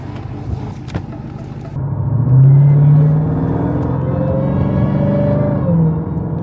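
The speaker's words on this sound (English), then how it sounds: "I ain't do nothing to it but put on muffler delete." A BMW car engine with a muffler-delete exhaust gives a deep, throaty rumble close by. It swells louder after a couple of seconds and stays strong and steady.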